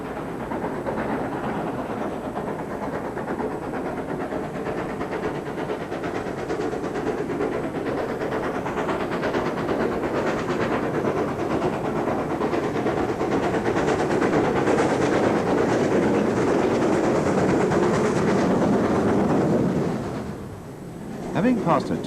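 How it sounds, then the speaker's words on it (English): Great Western Railway steam locomotive Nunney Castle hauls a passenger train from Paddington to Stratford-upon-Avon through the Chilterns, a continuous heavy rumble and roar that builds as it passes close, then drops away sharply near the end. "Here she heads through the Chilterns with a train from Paddington to Stratford-upon-Avon."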